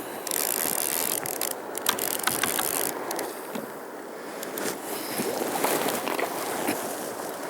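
Fly fishing reel drag on a number 8 weight rod ratchets in steady clicking bursts as a hooked salmon strips line, loud and close over a rushing river.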